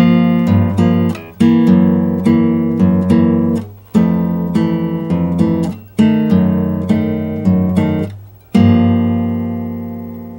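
A guitar plays a bossa nova rhythm with an added 16th-note upbeat, with repeated plucked chords and bass notes in a steady syncopated pattern, close and clear with no voices.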